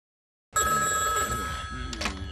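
A cartoon telephone from The Simpsons rings loudly after a moment of silence, a bright, sustained electric bell tone close up.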